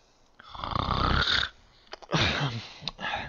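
A game character in Lord of the Rings Online snores in two long, rasping, wheezy breaths, close and loud with no talk.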